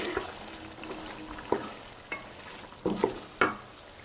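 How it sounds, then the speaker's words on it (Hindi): Yogurt stirred into a frying curry in a pan: a soft sizzling hiss broken by irregular spoon scrapes and knocks against the pan, close and moderately loud. "थोड़ा सा दही, ये डाल देंगे और अच्छे से मिक्स कर लेंगे"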